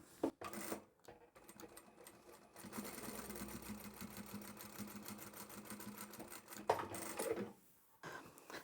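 A sewing machine stitches the seam of a one-piece fabric ponytail beanie hat, a rapid, steady mechanical chatter that runs for several seconds, with brief pauses and a faint clunk near the start and end.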